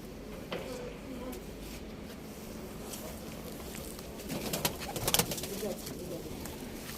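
Soft pigeon cooing set against a steady hiss of background noise, with faint scattered patter and clicks, nobody speaking.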